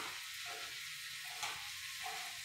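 Okra frying in a pan, a steady soft sizzle with bubbling hiss, fairly quiet and continuous, no voices.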